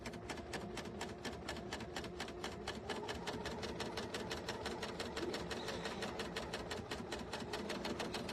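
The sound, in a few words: serger sewing machine stitching quilt fabric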